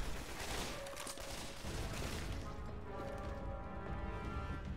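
An M60 machine gun fires in Left 4 Dead 2, a rapid clattering stream of shots mixed with crashing impacts that fades slightly toward the end, with no speech.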